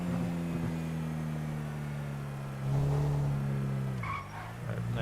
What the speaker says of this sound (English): Nice little engine sound too.